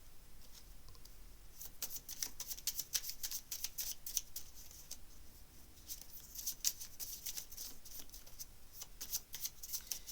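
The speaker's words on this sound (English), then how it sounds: "So let me get a few cards for you." Tarot cards being shuffled close up in quick riffling bursts, crisp papery flicks coming in clusters with brief pauses between, quiet and alone without talk.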